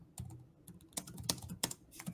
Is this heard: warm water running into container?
no